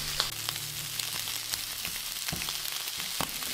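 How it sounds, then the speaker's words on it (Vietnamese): Shrimp shells and heads sautéing in a pot for a seafood noodle broth, giving a steady close sizzle and crackle with occasional sharper pops and stirring clicks, no voices. "Sau khi mình xào thơm rồi, lúc này mình cho hành tây vô trong nồi luôn"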